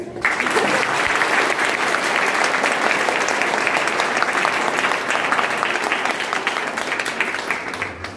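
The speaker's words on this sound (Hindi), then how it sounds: "ताली बजाइए।" Loud, sustained applause from a large lecture audience fills the whole stretch, steady clapping with faint voices mixed in.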